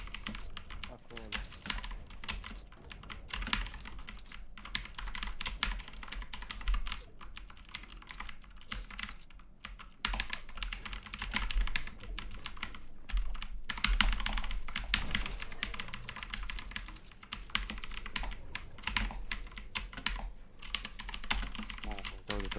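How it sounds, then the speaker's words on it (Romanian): Fast, loud clatter of a computer keyboard during a Fortnite endgame, keystrokes dense and continuous throughout with voices faintly mixed underneath. "cum se aude tastatura lui ăsta"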